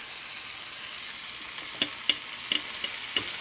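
Onion, garlic and ginger sizzle steadily in a hot pan with cumin seeds, a constant bright frying hiss broken by a few soft clicks and pops, no voices.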